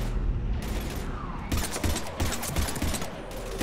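Rapid automatic gunfire from a sci-fi shooter video game, Mass Effect 3, forms a dense, continuous fusillade of loud bursts with heavier volleys partway through.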